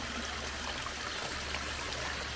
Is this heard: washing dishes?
no